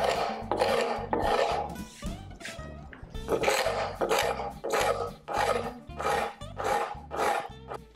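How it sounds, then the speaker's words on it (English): A floor scraper rasps along the glued seams of a walnut tabletop, removing dried glue in repeated loud close strokes of about half a second each, with brief pauses between. "used a floor scraper to remove the majority of the dried glue from the seams"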